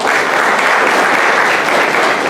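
A seated audience at a Mauritian ministry event for a new SME scheme gives a short burst of dense, even applause lasting a couple of seconds.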